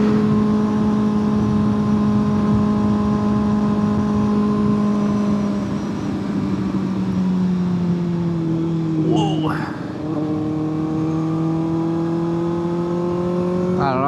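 A Kawasaki ZX6R motorcycle on a dusk ride, engine humming steadily and sliding lower in pitch, then a sharp rev blip around a gear change before it climbs again, close and continuous under wind.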